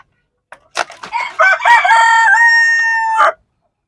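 A Mianwali rooster lets out a loud, close crow with a long sustained final note, preceded by a few sharp clucks from Aseel hens in a backyard poultry setup.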